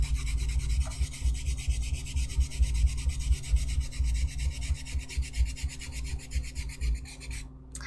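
A brush painting a sculpted sand dragon makes a soft, steady rasping rub, quiet and close, continuing without talk.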